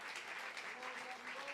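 A church congregation claps during an evangelical service, a steady, even patter of many hands that stays fairly soft and continuous throughout.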